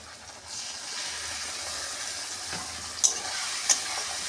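Water is poured into spiced potatoes frying in a pan with coriander powder, cumin powder and salt. A steady hiss and sizzle runs throughout, with two sharp clicks of a utensil near the end and no voices.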